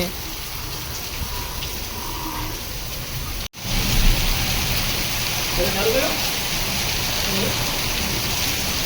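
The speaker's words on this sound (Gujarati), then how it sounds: "ફૂલ વરસાદ આવી રહ્યો છે" Heavy afternoon rain with strong wind pours steadily in a dense, close hiss, broken by a brief dropout midway before the downpour resumes just as loud.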